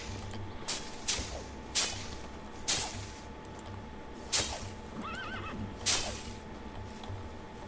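A horse in the video game Medieval Dynasty neighs and whinnies repeatedly, around six loud calls spaced a second or so apart over a low, steady background hum.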